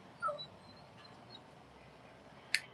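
A dog at home in Paraguay gives a few faint, high whimpers and one sharp yip near the end, set against a quiet evening room with no speech.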